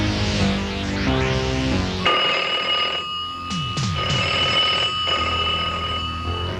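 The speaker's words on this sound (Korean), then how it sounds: "이근호 씨를 목격했다는 전화가 쉴 새 없이 걸려왔다" An old landline telephone bell rings insistently, a bright metallic ringing that starts after a musical intro and repeats in bursts, loud and close, in a 1987 Korean TV crime drama.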